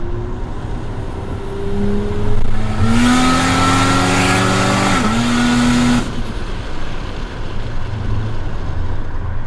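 An 800 hp Ford Barra-engined FPV F6 ute accelerates hard, its engine note climbing through revs in a loud roaring run, a brief shift dip, then fading back to a low idle-like rumble.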